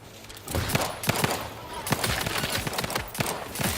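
Gunfire from hip-fired weapons in the video game The Outer Worlds 2 comes in bursts of rapid, punchy shots at close range, running almost continuously after a brief quiet start.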